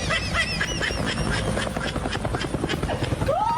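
A helicopter's rotor chop thrums steadily and loudly, with honking goose-like calls and a rising squeal layered over it.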